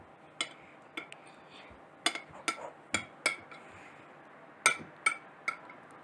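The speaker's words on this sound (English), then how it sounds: "Now you get your spoon and push it in." A spoon pushing food into a dish, about a dozen light clinks and taps of metal on crockery at uneven intervals, close and fairly quiet with soft room noise between.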